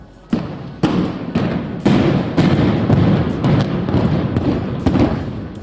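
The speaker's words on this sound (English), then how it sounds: "You hear the booms, you feel them, and it all starts to collapse." A building implosion sets off a rapid series of loud, sharp booms about half a second apart, then a sustained heavy rumble as the structure collapses.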